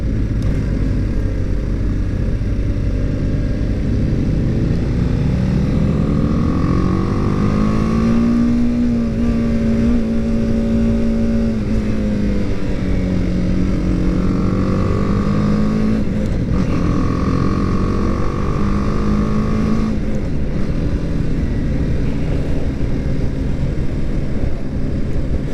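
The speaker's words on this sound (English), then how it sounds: "we're about to jump onto the highway, which we're going to test out how this bike feels on the highway" A 2019 BMW G310GS motorcycle rides steadily at speed, its engine droning continuously under heavy wind roar, with pitch rising and falling through gear changes on the way to a highway.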